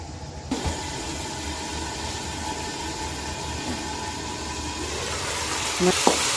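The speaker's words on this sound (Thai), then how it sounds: "แล้วก็เปิดไฟแรงเลยนะคะระหว่างที่เราใส่หมูนะ อ่ะ แล้วก็ปิดฝาไว้นะคะ เคี่ยวจนน้ำเริ่มงวดนะคะ" Pork belly simmering hard over high heat in a covered pan gives a steady, dense sizzling hiss that runs nearly the whole time, with a faint clink or two near the end.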